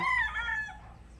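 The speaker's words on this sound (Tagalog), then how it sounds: "ito na ang ating munting manukan" A rooster crows close by in a small backyard chicken coop, one loud drawn-out call that fades within about a second over a faint low hum.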